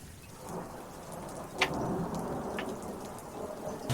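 A thunderstorm with steady rain falling on surfaces, a continuous soft hiss of drops with a low distant rumble of thunder and a sharp crack near the middle.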